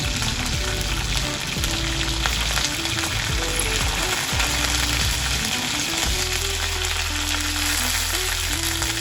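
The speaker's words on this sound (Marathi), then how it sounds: "कढईतले तेल तापल्यावर त्यात मी मोहरीची फोडणी करून घेतलेली आहे." Mustard seeds, garlic and chopped green chillies fry in hot oil in a kadhai, a dense continuous sizzle with crackles, interrupted by repeated scraping stirs from a spoon.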